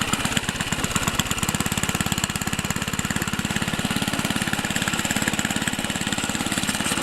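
A 1975 Ariens snowblower engine runs just after a cold start with the augers engaged, a loud, close, fast steady chugging that settles into an even idle rhythm.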